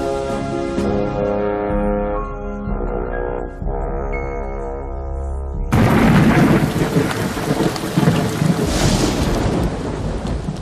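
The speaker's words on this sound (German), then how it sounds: "Es regnet heftig" Heavy rain and thunder on a battlefield the night before Waterloo: after a passage of music, a loud, dense downpour bursts in, with rolling thunder rumbling beneath the steady hiss of rain.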